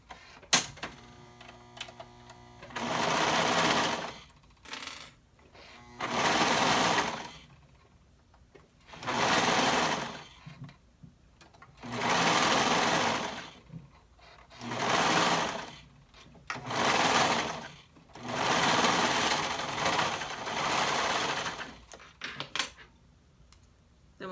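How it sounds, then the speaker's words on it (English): A sewing machine stitches a half-inch seam on a tank bodice, running in about eight separate bursts of steady whirring, each lasting one to three seconds and separated by short pauses, close and clear with no talking. "So we'll sew this together with a 1/2 inch seam allowance."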